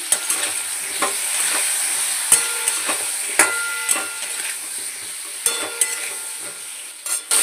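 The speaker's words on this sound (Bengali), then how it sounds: "একটু তেলের মধ্যে নেড়ে নেব, সামান্য একটু হলুদ আর নুন দিয়েছি" Vegetables fry in oil with turmeric and salt while being stirred, producing a constant close sizzle broken by repeated sharp scrapes and clinks of the spoon against the pan.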